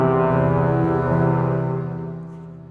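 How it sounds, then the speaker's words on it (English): A HALion 7 orchestra preset triggered from a keyboard gives a loud, sustained, rich layered chord with dense harmonics, holding steady and then slowly fading. "now we're going to be sending it to that orchestra sound instead."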